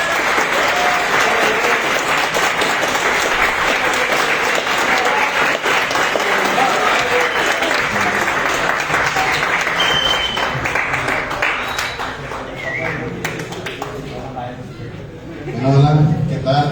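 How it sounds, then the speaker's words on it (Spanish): Loud, sustained applause from an audience welcoming a speaker named Darío to a talk on artificial intelligence, a dense steady roar of clapping that thins out near the end. "les pido un fuerte aplauso al maestro Darío"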